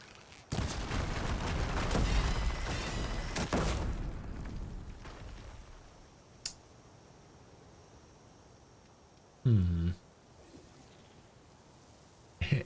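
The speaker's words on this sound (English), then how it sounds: "It appears as though my two electric traps, my two explosive traps rather, got exploded by some rocks." Explosive traps going off in Horizon Forbidden West: a long, noisy rumbling blast early on, then quieter stretches broken by a sharp crack and another short burst, with no talking.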